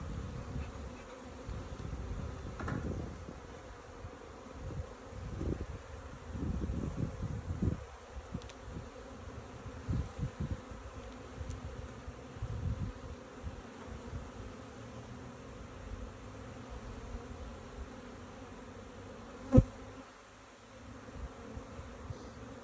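A continuous drone of many honey bees fills a hive inspection, a close, even buzz with scattered soft knocks and handling noises, and one sharp click near the end.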